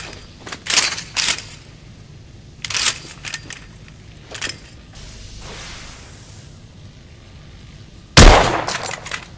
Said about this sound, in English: I've outfitted this one with a telescopic sight. It's ideal for long-range shooting.